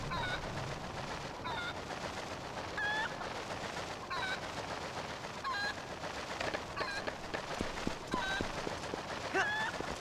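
Chickens in Zelda: Twilight Princess HD, repeated short squawking calls every second or so over a busy in-game background, with a voice talking at times.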